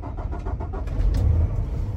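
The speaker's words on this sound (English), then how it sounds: "I'll go ahead and start the engine." A truck engine is started with the clutch in and the brakes set during an air brake test, giving a short cranking churn that catches into a low rumbling idle close by.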